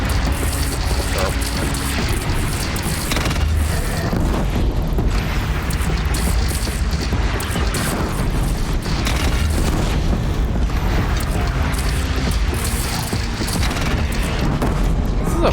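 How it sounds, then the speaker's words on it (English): Cannon fire in the video game Horizon Zero Dawn, loud continuous booming blasts and rumbling over dense game noise, with no pauses throughout. "This is a fun cannon to use."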